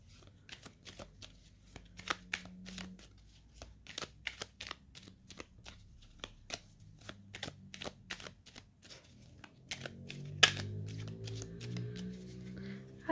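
A deck of oracle cards being shuffled and cut by hand, a quick run of crisp riffling snaps and taps close by, with faint speech near the end.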